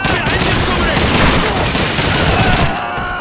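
Dense, continuous World War II battle gunfire from Call of Duty 2, with rapid overlapping rifle and machine-gun bursts filling the whole stretch at a loud, steady level before easing slightly at the end.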